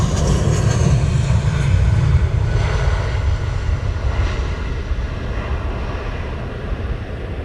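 Jet aircraft departing Luton Airport, a loud, steady roar dominated by low rumble that slowly fades with distance, with no voices.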